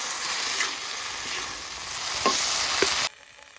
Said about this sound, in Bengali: সরিষাটা সবজির সঙ্গে ভাজে নেব।